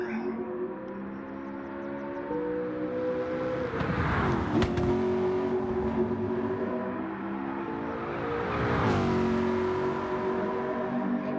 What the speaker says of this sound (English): that car makes a pretty sound